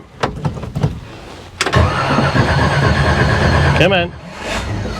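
A 1970 Chevelle with no choke cranks a few times, catches and settles into a loud, rough idle close by, then revs briefly before dropping off. Someone speaks a couple of words over it.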